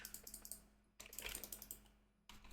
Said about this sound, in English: No, don't stand on a keyboard.